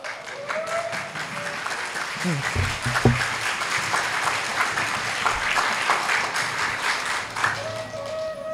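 An audience claps during a Hindu kirtan devotional gathering, a dense sustained wash of many hands applauding together in a hall, loud and continuous, with a few low thumps and voices faintly beneath.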